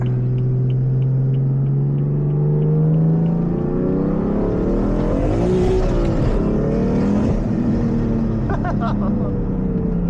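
A single-turbo F80 M3 engine, close and loud, revs hard with its pitch climbing, then holds at a high, roaring drone.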